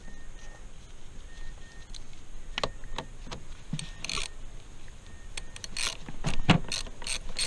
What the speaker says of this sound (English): take my 10mm, put on my extension, and go get that battery off